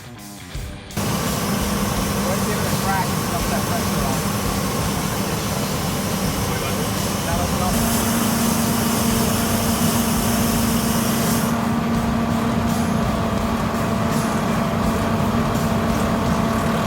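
Fire engine pump motor revved to 1,000-1,200 RPM in RPM mode, holding a loud, steady drone with a constant hum and a slight rise in pitch partway through, close and with no talk.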